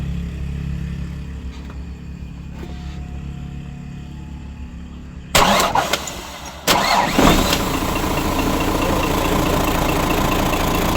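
An engine with an electronic injection pump cranks and catches, a loud burst of starter churning that settles into a steady running idle after a quiet, humming lead-in.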